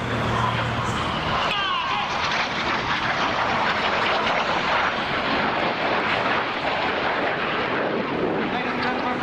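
Red Arrows jet aircraft roar through an air display at RAF Waddington, a loud sustained broadband rush that fills the whole stretch, with a commentator's voice over it.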